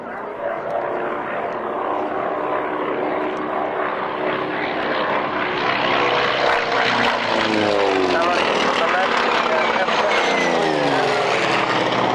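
A propeller warbird, the only flying example in Europe and painted as JV579 of 846 Squadron, drones loudly over the 1998 Duxford Flying Legends airshow. Its engine note swells and shifts in pitch as it passes, while a commentator talks throughout.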